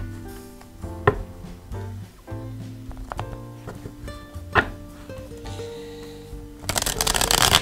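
Tarot cards are handled and shuffled with soft slides and a few crisp snaps, ending in a louder riffling burst, over a faint tonal background with no speech.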